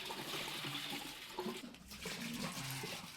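Coolant trickles and gurgles out of a 1970s Ford Escort MK1 radiator, a quiet, uneven splashing of liquid.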